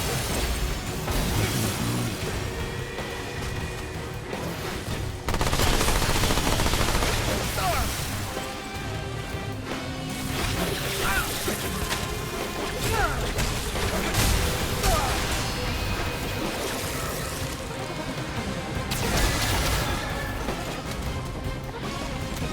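Dense, continuous gunfire and crashing impacts fill a Remnant 2 boss fight against the Primogenitor, a steady loud barrage of shots and smashes with game audio layered throughout.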